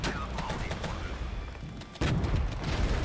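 Artillery fire in a war video game: dense, continuous booming and gunfire with a louder burst of blasts partway through, under a busy battle din.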